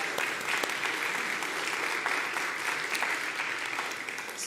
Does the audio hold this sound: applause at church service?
yes